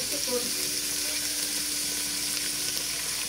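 A spoon stirring macaroni soup with cabbage in a pot, a steady sizzling, bubbling wash with faint scraping, continuous and fairly close.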